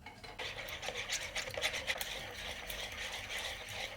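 Flour and baking soda being mixed for a pumpkin cake, a steady close scraping and rubbing stir that continues without pause, with no one speaking over it.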